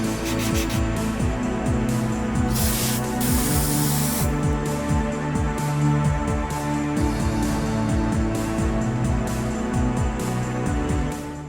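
Rust stop aerosol sprayed onto a sanded Mercedes body panel in repeated hissing bursts with a continuous can rattle and rubbing texture, close and steady throughout.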